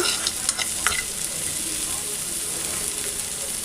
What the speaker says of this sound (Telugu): పచ్చిమిర్చి ఇవన్నీ లైట్గా వేయించుకోవాలి ఎక్కువ మగ్గన అవసరం లేదు